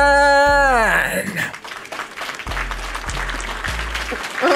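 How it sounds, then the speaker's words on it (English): A group of people clapping in applause, heard after a rising tonal sound fades, scattered claps continuing with some voices and noise mixed in. "They're clapping for me."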